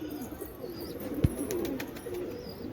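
Pigeons on a rooftop terrace cooing in soft, repeated low calls, fairly close, with faint outdoor background noise and no voices.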